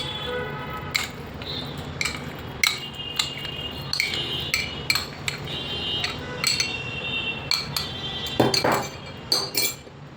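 A spoon stirs rose syrup sharbat with basil seeds and rose petals in a glass, producing a quick series of bright clinks and taps against the glass over a soft liquid swirl, close and clear.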